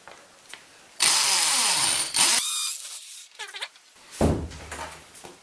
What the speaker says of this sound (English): after you have drilled in the holes for the combustion chambers